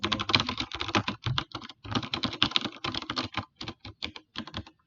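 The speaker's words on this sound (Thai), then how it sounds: "คีย์บอร์ดตัวนี้คือแบบลื่นมากอะแบบกดอะไรก็ได้น่ะ" Fingers type quickly on a light, smooth-action computer keyboard, a dense run of soft clicks in uneven bursts with brief pauses, close and alone with no talking.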